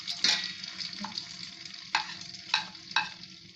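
Potato curry with gram flour sizzles softly in a pan while a spoon stirs it, producing several sharp scraping clinks over a faint, steady frying hiss.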